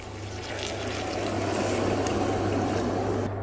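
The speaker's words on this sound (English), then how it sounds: "Now to the rice I am going to add around 3 cups and 3/4 cups of water" Water pours steadily into rice for a dry fruit pulao, a continuous close rushing trickle that lasts the whole stretch with no voices over it.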